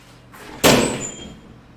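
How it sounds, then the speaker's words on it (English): A back door being opened indoors: one sharp thump from the latch and frame near the middle, then a short fading rattle in a quiet room. "I just opened up the back door"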